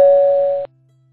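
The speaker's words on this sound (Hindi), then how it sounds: "डोर की घंटी बज गई" A single electronic doorbell chime sounds loudly, holding a clear tone for just over half a second before cutting off abruptly.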